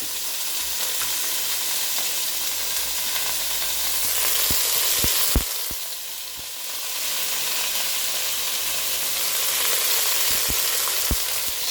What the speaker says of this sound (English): the pineapples are all in there and they're starting to caramelize